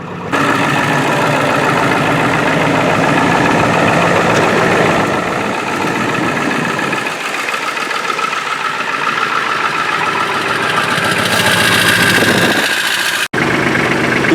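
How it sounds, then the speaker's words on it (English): An old Ford diesel truck engine cranks, catches and settles into a steady, loud rumbling idle heard close up, with a brief cutout near the end and no talking. "We got the old Ford diesel fired up there"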